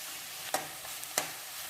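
Beto greens sizzling as they fry in a pan, a steady hiss with two sharp scraping clicks of a utensil stirring the leaves, heard alone without talk.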